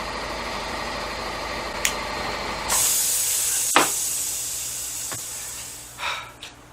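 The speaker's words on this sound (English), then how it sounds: "we'll wait for the noisy people and the compressor to stop" An air compressor hisses and hums steadily, then changes pitch partway through, with a few sharp clanks and knocks over it and faint background activity from people nearby.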